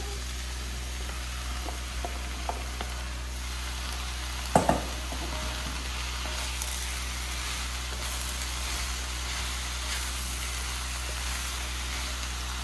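Potatoes frying in a pan, a steady moderate sizzle running continuously, with one brief clatter partway through and no talk.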